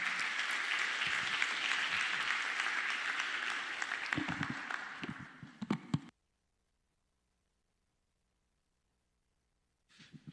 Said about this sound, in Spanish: vamos a dar un fuerte aplauso al expositor